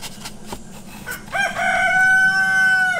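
A rooster crows loudly and close by, one long drawn-out cock-a-doodle-doo following a few short clucks and scattered knocks.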